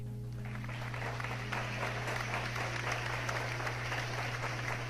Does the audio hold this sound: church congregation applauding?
yes